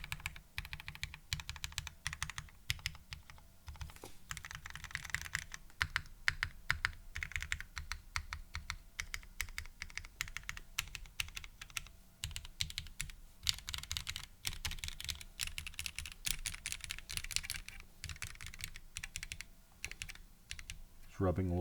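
Continuous typing on a modded KBDFans Odin mechanical keyboard, dense clacking keystrokes in fast bursts with brief pauses, close and steady throughout, no voices.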